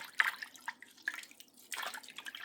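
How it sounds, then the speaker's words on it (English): Fish being washed under running water for Jamaican curry fish: faint, intermittent splashing and dripping in short bursts, close and quiet, with no talk. "Make sure you wash your fish."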